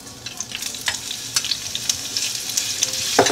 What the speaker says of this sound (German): So, ich brate jetzt das Gemüse.